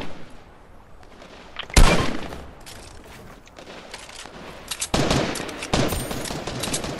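Gunfire from players battling in Fortnite, loud sharp volleys and automatic bursts in clusters with quieter gaps between, the fight sounding fairly close, no voices over the shooting.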